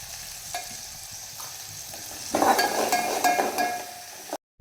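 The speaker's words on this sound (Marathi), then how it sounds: "तर मी मिरची, टमाटर आणि जिरं मोहरी टाकली याच्यात. तर चांगलं मिक्स करते." Chili, tomato, cumin and mustard seeds sizzling in a pan as a spoon stirs them, close clinks and scraping over steady frying hiss that swells midway before a brief cutoff.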